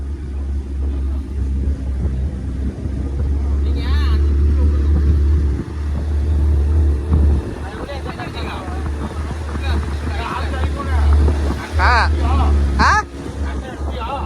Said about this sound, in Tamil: நம்ம கப்பல் பாத்தீங்கன்னா இப்போ பறந்துட்டு இருக்குது போட்டிங்க